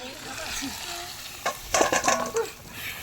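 Oil crackles and sizzles in a pan of chicken and spices, with a burst of louder spitting midway through, over a low kitchen hiss; no talking.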